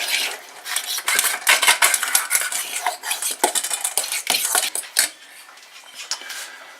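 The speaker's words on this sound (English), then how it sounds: "I'm going to mix that in real good." Steady scraping and clinking of a spoon stirring lemon juice into dog cookie batter in a bowl, close and busy with rhythmic knocks against the bowl's sides, no talking.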